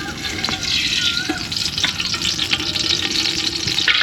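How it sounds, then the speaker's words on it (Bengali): Soybean oil sizzling and frying steadily in a hot pan for a duck curry cooked in a village kitchen, a dense continuous crackle with occasional sharper pops, close and fairly loud with no talk. "প্রথমে দিয়ে দিচ্ছি সয়াবিন তেল"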